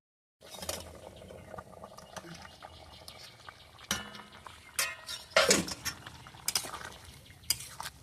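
A spoon scrapes and clinks inside a cooking pot while mutton, papaya and potato curry simmers in a village kitchen, with irregular knocks and soft bubbling and a voice speaking now and then.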